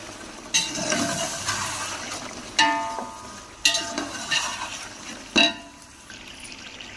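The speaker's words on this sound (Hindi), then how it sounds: "तो इसे करेंगे अच्छे से मिक्स" Chicken pulao stirred in a pot, several separate scraping, swishing strokes spaced a second or two apart, close and fairly quiet, with no voices.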